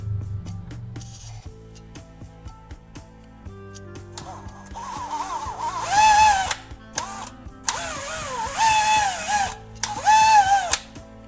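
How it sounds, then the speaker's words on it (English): A power drill boring a hole into the center of a vertically fixed wooden rod, starting with quieter ticks and motor hum, then several loud whining bursts of drilling with short pauses between, close up and without talk. "I'll fix the wooden rod vertically and drill a hole right in the center"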